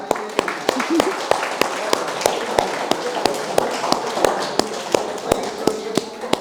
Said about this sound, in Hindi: तालियां अपने लिए।